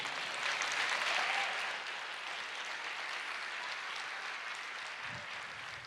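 A church congregation applauds during a worship service, a broad wash of many hands clapping together, loudest at first then settling into a steady, slightly distant roar before a brief thump near the end.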